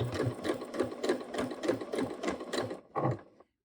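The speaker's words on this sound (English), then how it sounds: "I'm going to take one stitch forward and then take a couple stitches back to the very edge" Home sewing machine stitching a skirt waistband, a close rhythmic run of rapid needle thumps, a short pause, then a brief final burst before stopping.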